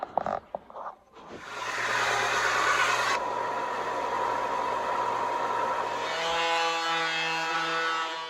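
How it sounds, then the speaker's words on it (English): A power sander works over wooden window casing uprights for finish carpentry, a loud steady motor whine running continuously for about seven seconds after a brief start, close up with no talking. "So let's get these sanded."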